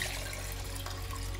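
Homemade ginger drink sweetened with sugar being poured into a cup, a steady liquid stream running continuously and close by with no talking.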